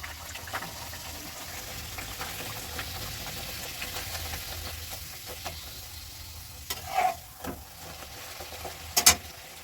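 Luchi puffed flatbread deep-frying in a wok, a steady close hiss and sizzle of oil with occasional clinks and stirring sounds near the end.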